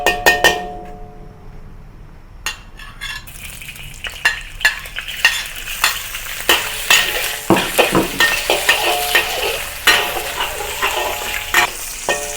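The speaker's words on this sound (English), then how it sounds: "Keep some oil in the wok to fry the prawns." Prawns fry in oil in a wok with a steady sizzle, broken by repeated clinks and scrapes of stirring against the pan, close and clear with no talk.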